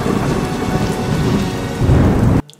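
Heavy rain with thunder forms a dense, continuous roar and deep rumble, loud and enveloping, cutting off abruptly at the end.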